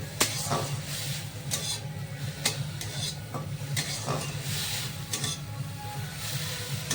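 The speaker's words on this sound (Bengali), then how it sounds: "মাছটা আগে ভেজে নিই।" Fish frying in a pan, a soft, fairly quiet sizzle with scattered clicks and stirring knocks throughout.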